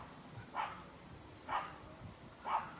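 Three evenly spaced, fairly faint barks from a small dog such as a Shih Tzu, heard at a distance over quiet room noise.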